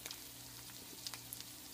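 Egg rolls fry in a pan with a faint, steady hiss and occasional soft pops and crackles, quiet and close with no voices.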